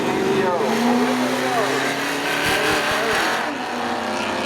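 Spectator drag cars launch at Seekonk Speedway, their engines revving upward and roaring loudly away with a brief tire squeal, while an announcer talks over the noise.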